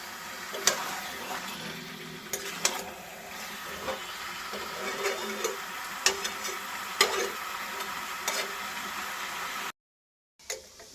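Chicken curry with potatoes is stir-fried in a pan, a steady moderate sizzle punctuated by repeated scraping clacks of a spatula, with a short silent gap near the end.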